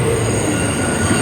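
A Q subway train bound for Manhattan rolls through the underground with loud, continuous steel wheel squeal over a steady rumble, close and without pause.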